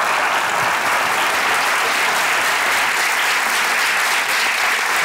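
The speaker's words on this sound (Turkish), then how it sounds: "Ona kocaman bir moral alkışı" Studio audience at a live comedy show giving loud, dense, sustained applause that holds steady throughout without letting up.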